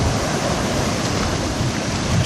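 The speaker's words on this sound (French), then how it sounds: "de belles petites vagues" Ocean waves break and wash at the Rivière des Galets river mouth, Réunion, in a continuous roaring hiss, steady and fairly loud, mixed with some wind noise.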